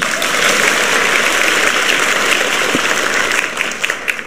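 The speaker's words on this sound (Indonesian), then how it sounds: "Tepuk tangan dulu dong." Loud audience applause in a hall at a political party speech, a thick, continuous roar of many clapping hands close by, steady throughout with a few sharper claps standing out toward the end.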